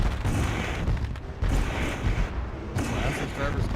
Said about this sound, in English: a huge fireworks show, just to kind of set things off here